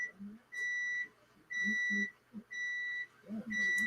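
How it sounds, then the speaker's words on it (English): A kitchen timer beeps in steady bursts, each high electronic tone lasting about half a second with short gaps between, repeating four times at moderate volume while faint voices murmur underneath. "Can y'all hear that timer?"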